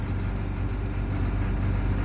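A John Deere 4960 tractor with a new injection pump idles steadily, a low, even diesel rumble close by with no talk.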